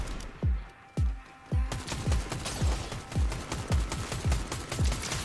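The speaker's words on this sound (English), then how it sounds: "They're shooting at me or they're shooting at someone else." Gunfire in the Fortnite video game: rapid bursts of shots with punchy low booms, repeating in quick succession, loud and close.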